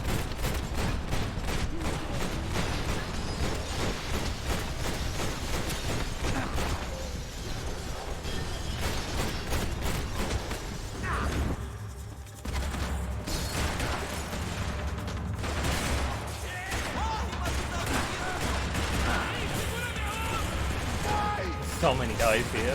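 AK rifle gunfire in the video game Max Payne 3, dense rapid bursts of shots with clattering impacts, mixed with game noise and a voice talking over it.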